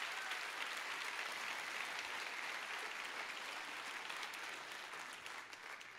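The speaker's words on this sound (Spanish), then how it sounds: "Dale más fuerte ese aplauso al Señor" A church congregation applauds loudly and steadily during a Spanish-language worship service, a dense wash of clapping that holds for several seconds and eases slightly at the end.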